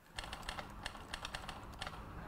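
Typing on a computer keyboard set up to mimic a typewriter, a close, quick run of crisp key clicks in uneven bursts, with no voices.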